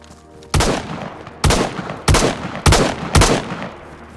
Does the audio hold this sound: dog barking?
no